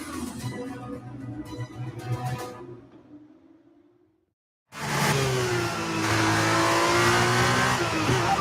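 An F1 23 race car leaves the pits on brand-new tyres. A quieter engine passage fades to near silence, then a loud, close, high-revving engine surges in and holds through rising gear changes.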